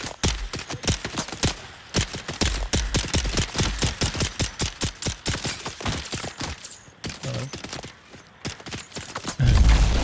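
Rapid gunfire in Dune Awakening, dense bursts of sharp repeated shots in quick rhythm, loud and close, pausing briefly near the end before a final heavy blast.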